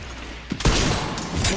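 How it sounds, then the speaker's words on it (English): Enemy gunfire in the survival horror game Resident Evil Requiem: a short burst of several close, loud shots with a dense crackling tail, starting after a brief quiet lead-in. "He's doing shooting now."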